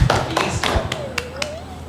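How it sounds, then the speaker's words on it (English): A few claps in a classroom for a student who has just answered, several sharp separate hand claps close by that thin out quickly, with a brief voice sliding in the background. "Clap for him."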